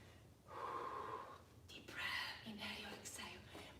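Slow, deep breaths during a live morning stretch class, a long audible inhale followed by a breathy exhale, close and fairly soft, with a faint voice in the background.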